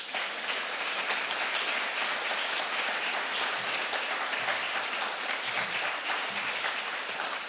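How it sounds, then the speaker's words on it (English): A steady, warm round of audience applause for award winners at an architecture symposium, dense clapping continuing evenly from start to finish with no speech over it. "Please give a very warm round of applause to Lyndon, Neri and Rossana."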